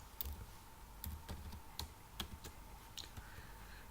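Code being typed on a computer keyboard, a quiet string of separate key clicks at an uneven pace, close but faint, with no speech.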